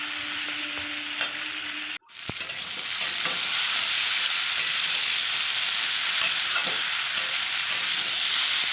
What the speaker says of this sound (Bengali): সব শেষে দিয়ে দিলাম চুই ঝাল আর কাঁচা লঙ্কা। কাঁচা লঙ্কাটা দিয়ে আর একটু নেড়ে নেব।